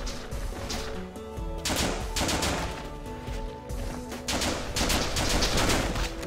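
Dense bursts of video game gunfire in the indie Japanese FPS The Legend of Alfur, rapid volleys of shots rattling almost continuously and loud for several seconds with no voices.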